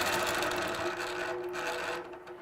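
A longarm quilting machine stitches a feather pattern, giving a steady, loud, close mechanical whir with a rapid even needle rhythm that eases slightly near the end, no voices.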